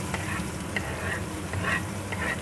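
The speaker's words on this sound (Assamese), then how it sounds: "এয়া পিঁয়াজখিনি তেলটো খুব গৰম হৈছে। এতিয়া পিঁয়াজখিনি দি দিলোঁ।" Onions dropped into very hot oil for a prawn and coconut dish, giving a steady, close sizzle with a few brighter crackling bursts and soft stirring scrapes, no voices.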